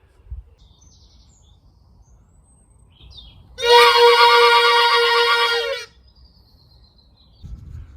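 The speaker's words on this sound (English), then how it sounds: "And then there was the hornix." A homemade instrument called the hornix sounds one loud, buzzy, reedy blast of about two seconds with a bright stack of overtones, standing out against a quiet background.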